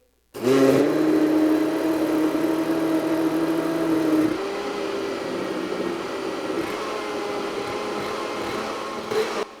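A blender whirs steadily while making chocolate mousse, loud and close, with a steady motor drone that drops to a lower, softer pitch partway through and keeps running to the end.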